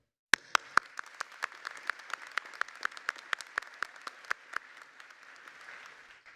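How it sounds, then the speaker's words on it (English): An audience applauds at a commencement ceremony, starting abruptly and continuing as a steady patter of claps, with a few loud individual claps standing out near the front and the applause gradually thinning toward the end. "I want to start this with a round of applause for you, because you did it."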